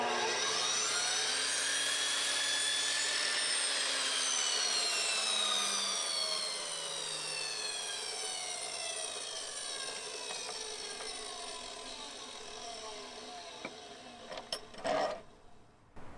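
A power saw with a blade cutting through a wood board, its whine dropping slowly as the blade bites, close and loud, then fading into short knocks and clatter as the cut ends.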